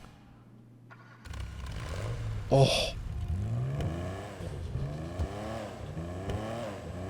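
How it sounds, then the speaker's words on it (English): A Ferrari Le Mans edition in the GTA 5 video game starts with a sudden loud burst, then revs repeatedly in rising and falling sweeps, close and prominent, with one brief exclamation from a voice. "I'm going to start this thing up because it sounds actually beautiful"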